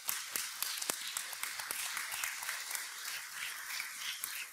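At a Dickinson State University spring commencement ceremony, the graduation audience bursts into applause. Many hands clap in a dense, crowded patter from a large hall, staying moderately loud without letting up.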